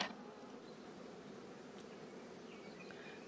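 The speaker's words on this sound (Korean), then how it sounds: "지금 쪽사리 꿀을 따려고 왔다 갔다 하고 앉아서 쉬는 것도 있고 꿀벌들이" Honeybees buzz steadily around a hive box set up for rearing queens, foraging on nearby flowers, a soft continuous insect drone with no voices.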